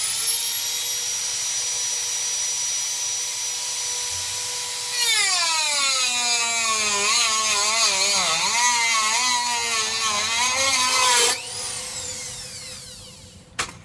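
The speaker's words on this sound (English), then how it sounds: "Okay, got my Dremel with the cutting wheel." A Dremel rotary tool fitted with a cutting wheel runs at a high whine, then drops and wavers in pitch as it bites into a metal sword tang, spinning back up before stopping near the end.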